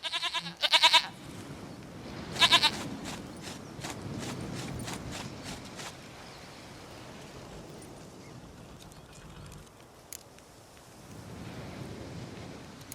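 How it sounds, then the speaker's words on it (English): Goat bleats from The Witcher 3 come in two short, wavering bursts early on, followed by a low rumbling ambient bed that continues throughout. "Goat of mine! Dearest, sweetest goat!"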